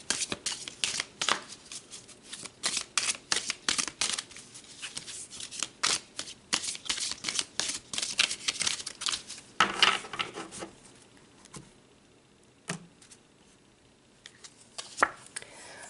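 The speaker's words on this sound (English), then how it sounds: "let's pull some more cards" Tarot cards being shuffled by hand: dense, rapid riffling and flicking bursts packed close together for about ten seconds, then sparser taps and slides of the deck near the close.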